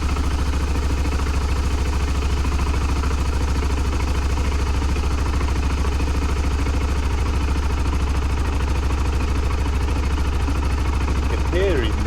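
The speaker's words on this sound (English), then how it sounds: "You can hear even the pitch change in the engine" A BMW F650GS Dakar motorcycle idles just after an oil change, its single steady low rumble continuous and close throughout, with a slight shift in tone near the end.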